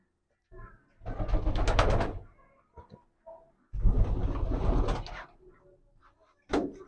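Racing pigeons in a loft in Matanzas coo amid two longer bursts of rustling, fluttering activity, close and moderately loud, with softer scattered sounds between them and a brief burst at the end.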